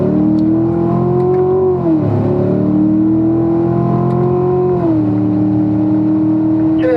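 A race car on a circuit accelerates hard through the gears, its loud, close engine note climbing steadily, dropping briefly at each upshift near two and five seconds, then climbing again.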